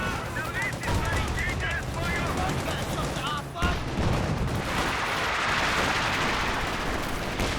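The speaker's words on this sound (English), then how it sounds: "Nice machine gun there, suppressing." Machine gun fire in the Company of Heroes 2 strategy game, sustained rapid bursts amid other battle gunfire and explosions, with a commentator talking over the action.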